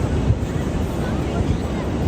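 Ocean waves at a Wildwoods beach after Hurricane Erin roll and break in a continuous broadband roar, buffeted by wind noise against the microphone, with no clear pauses between surges.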